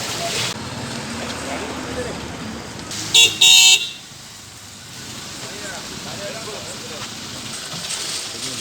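A car engine runs steadily nearby, then a short double horn honk sounds midway, with voices in the background.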